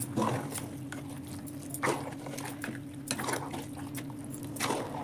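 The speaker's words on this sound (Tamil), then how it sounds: "நம்ம எண்ணெயை சூடு பண்ணி தான் ஊற்றணும்." Hot sesame oil poured over mango pickle being prepared in a home kitchen, giving soft, irregular wet splashes and drips over a low background hum, fairly quiet and close.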